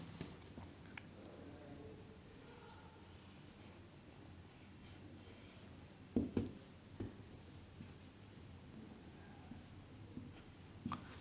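A hand writes a word on a board with faint, soft scratching strokes under a steady low hiss. A few light taps stand out near the middle.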